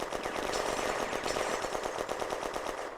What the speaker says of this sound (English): To the west, French tanks are laying down suppressing fire from the support by fire position on the ridge.